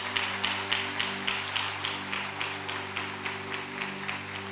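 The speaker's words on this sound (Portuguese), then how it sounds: "pode aplaudir o nome do Senhor nesta manhã" A church congregation clapping during a Sunday sermon: evenly spaced, rhythmic claps repeating steadily over sustained keyboard chords, moderately faint and consistent.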